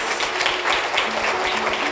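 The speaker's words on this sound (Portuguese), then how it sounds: "Aplauda Jesus, gente." A church congregation claps during a celebration service, a short burst of steady applause with some voices mixed in.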